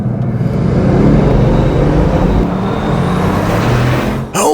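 A Bugatti Veyron accelerates at full throttle, a loud, sustained roar that fills the cabin steadily for a few seconds, with no talk over it.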